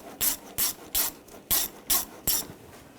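Screws being ratcheted into a transmission cooler on a 2009–2017 Volkswagen Tiguan: six evenly spaced, crisp ratcheting bursts in quick succession, close up and loud, with brief quiet gaps between them and no talk.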